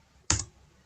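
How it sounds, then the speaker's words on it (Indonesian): A single short keystroke burst on a computer keyboard while typing a ping command, one crisp close clack followed by silence, and another key starting at the very end. "Di sini kita pilih command prompt, kita ketikkan ping"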